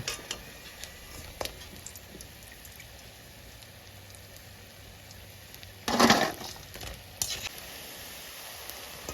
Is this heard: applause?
no